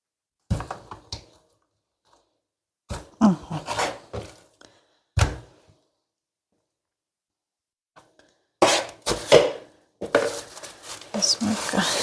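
Frozen chicken shawarma meat being sliced thinner on a board, heard as bursts of scraping, rasping knife strokes and knocks separated by silent pauses, close and moderately loud.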